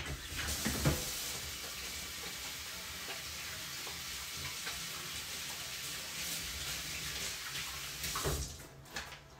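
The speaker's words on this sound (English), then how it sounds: "I probably still wanna wash my hands before I start" Water runs steadily from a kitchen tap during hand washing before cooking Korean food, a broad continuous splashing rush that stays loud and even, then tapers off near the end.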